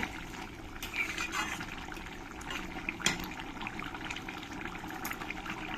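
Mushroom masala curry with thin gravy is poured from the cooking pan onto a plate, a soft liquid slop and trickle with light spoon clinks, quiet and close.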